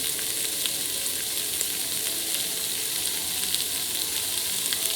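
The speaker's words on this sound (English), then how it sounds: "I like to cook my onions and get them a little bit caramelized" Onions caramelizing in a pan give off a dense, continuous sizzle and crackle, steady and close, with faint stirring and no voices.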